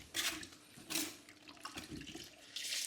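Carpet-cleaning equipment in a carpet laundry is rinsed with water, giving quiet, intermittent bursts of splashing and running flow.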